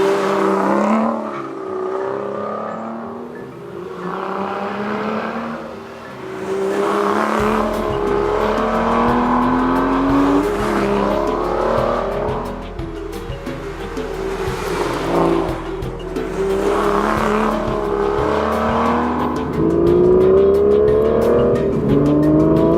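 A 2013 Aston Martin V12 Vantage with a manual gearbox driven hard on a winding canyon road, its V12 revving loudly through repeated rising pulls and gear changes, close and continuous.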